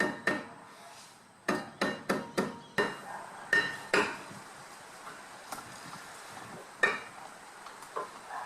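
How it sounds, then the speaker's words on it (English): A mallet taps a car's rear brake rotor to loosen it: a dozen or so sharp metallic knocks, some in quick bursts and some spaced apart, close and clear with no talking. "take your hammer, mallet, definitely not a hammer, mallet. Give it a few taps"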